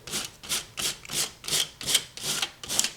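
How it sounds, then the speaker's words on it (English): Fine sandpaper rubs over painted paper ephemera in eight steady back-and-forth strokes, each a soft raspy swish close up, evenly paced with short gaps between. "I'm using a fine sandpaper to start"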